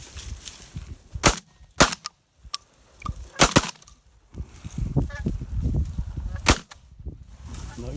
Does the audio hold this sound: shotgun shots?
yes